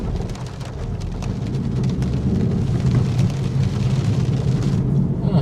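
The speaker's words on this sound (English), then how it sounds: "it's really raining now" Heavy rain pours in a dense, steady roar close by, with low rumbling underneath and no voices.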